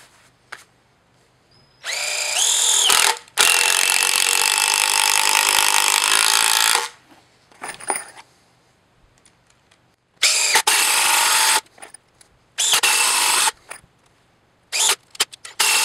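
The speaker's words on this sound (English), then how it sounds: "I'm gonna switch to the impact drill" An impact drill whirs in several bursts driving screws into a block of hardwood, a long one of several seconds, then shorter ones separated by quiet pauses, close and loud.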